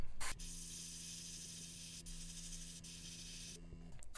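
Steady hissing spray of an airbrush painting a fishing lure, running continuously at close range, with a short click at the start and faint ticks along the way.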